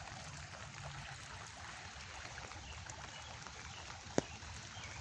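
Floodwater streams steadily through a flooded yard in a soft, continuous rushing wash with one sharp click near the end, and no voices over it.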